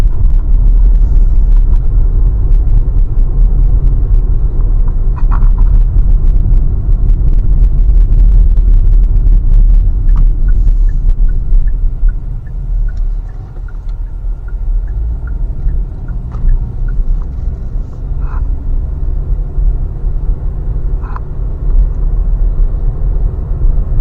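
Steady low rumble and whir of a 2024 Hyundai Kona's small engine heard from inside the cabin while driving, a continuous loud drone with faint road noise and occasional light clicks.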